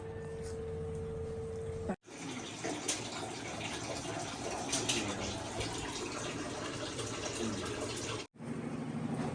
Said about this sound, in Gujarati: અહીંથી તમે આલ્કલાઇન વોટર પી શકો